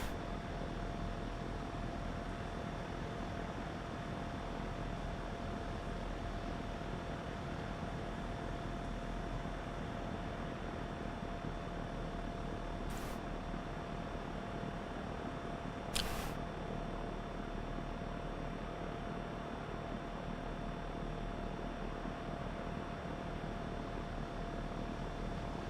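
Alabeo M20R Ovation piston engine idling steadily while taxiing in X-Plane 11, a low, constant hum and whir with a faint tonal whine, broken by two brief clicks.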